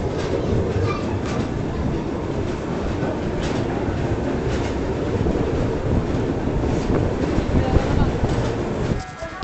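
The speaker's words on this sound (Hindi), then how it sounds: "हमारी आंध्र प्रदेश आ चुकी है महाराष्ट्र के बल्लारसा स्टेशन" The Andhra Pradesh Express pulls into Ballarshah station in Maharashtra with a loud, continuous rolling rumble and faint clatter of the carriages, which eases off near the end.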